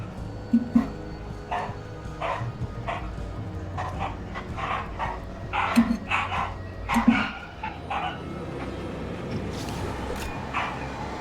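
Household dogs barking during play of the game Alan Wake: several short barks and yips come in clusters at moderate distance over steady background game noise.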